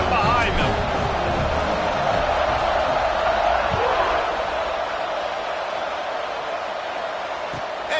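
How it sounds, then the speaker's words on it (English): Football stadium crowd at a tie college game between MDF3 and NC State cheering as the kickoff comes, a broad, sustained roar of many voices that holds steady and loud throughout, with a commentator talking over it. "this crowd now ready to get behind them"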